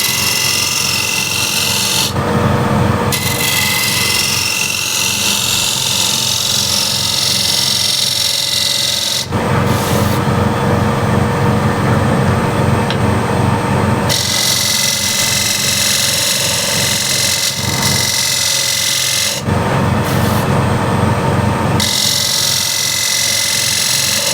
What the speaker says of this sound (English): Now to do that, I'm going to use a shear scraper.